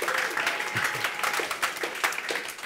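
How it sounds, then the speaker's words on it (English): A church congregation claps during a sermon, a lively, rippling round of applause with some sharper individual claps standing out, fairly close and sustained. "You can clap a bit louder."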